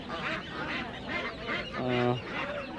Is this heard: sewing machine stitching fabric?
no